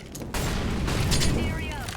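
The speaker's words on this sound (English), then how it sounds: "Flashbang" A flashbang grenade goes off in a first-person shooter playtest on a custom map, a sharp burst followed by a sustained bright ringing wash lasting about two seconds, close and loud, with players talking over it.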